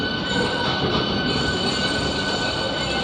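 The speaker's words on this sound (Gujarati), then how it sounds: "અત્યારે આપણે પેસેન્જર ટ્રેન માં સફર કરી રહ્યા છે" A passenger train out of Secunderabad rolls along with a loud, steady rumble of wheels on rails and a high metallic squeal running through, heard from on board with no voices.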